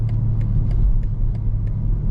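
BMW M440i coupe with the 382-horsepower B58 engine in Sport Plus, giving a deep steady rumble from inside the cabin with faint periodic ticks, loud and continuous.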